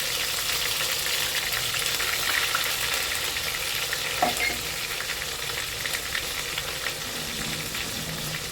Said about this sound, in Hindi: फिर हम डालेंगे इसमें प्याज और लहसुन का जो पेस्ट हमने तैयार करके रखा है,